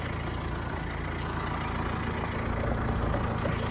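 A Mahindra Roxor engine idles low and steady as the vehicle crawls along in first gear in cold weather, a continuous close rumble with no voices.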